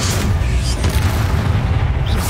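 A Confringo fire-blast spell in Hogwarts Legacy, cast mid-fight against Inferi, heard as a heavy rumbling boom that fills the whole moment, dense low-end roar without distinct separate hits.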